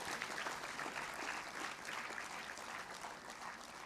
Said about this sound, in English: So the great applause and great salute to each and every parents